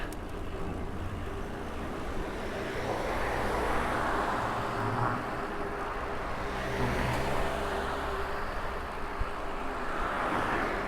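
Cars pass close by on a narrow Japanese road with no shoulder in Aichi, heard as soft, rising and falling swells of tyre and engine noise mixed with wind buffeting, with no talk.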